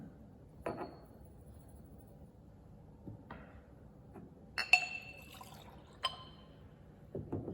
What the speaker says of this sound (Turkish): Ekledim ve güzelce karıştırıyorum.